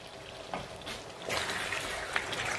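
Pork liver sizzling and frying in a pan for a vegetable liver-dumpling soup, a steady crackling hiss that rises louder partway through, with no talking.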